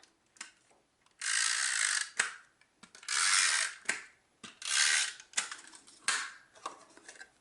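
An adhesive tape runner is pulled across cardstock for card making, making three loud, grinding ratchet-like runs, each about a second long, separated by sharp clicks and handling noises.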